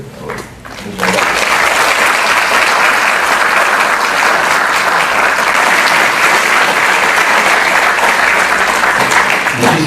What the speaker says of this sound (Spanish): pido un voto de aplauso para el Consejo Organizador